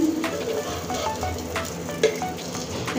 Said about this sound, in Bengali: একদম কম আঁচে করে ভাজতেছি।